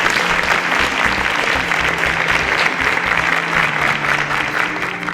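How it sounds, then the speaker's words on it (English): Studio audience applause rings out as contestants exit the stage in a TV competition show, a dense, steady burst of clapping from a large crowd that is loud and sustained for several seconds. "A round of applause for them as they exit the stage."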